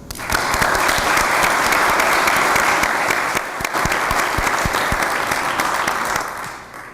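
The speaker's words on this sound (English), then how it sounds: "I believe we all owe them a round of applause" Loud, sustained applause from a full room at a county board meeting: a thick wall of clapping that holds steady for about six seconds, then tapers off quickly at the end.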